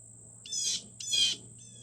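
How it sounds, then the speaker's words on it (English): Two loud bursts of agitated bird calls at a forest preserve in DuPage County, each lasting about a quarter second and carrying a rough, scolding quality, close by, with a steady hum underneath and no talking. "I've got some birds angry that I'm out here, I think."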